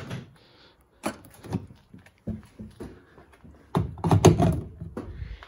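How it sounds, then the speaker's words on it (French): A Volkswagen ID.3 1st Max electric car door opens with a latch click and thud, followed by handling clatter and the charger plug being pulled out, close and sharp, on a cold day. "on ouvre la porte, on débranche"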